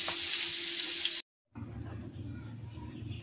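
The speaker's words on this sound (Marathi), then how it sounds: "सुरमई मासा आहे ते फ्राय करून घेऊया आता आपण।" Surmai (kingfish) frying in a pan, a loud steady sizzle with a sharp brief cutout, then resuming lower with a thinner hiss.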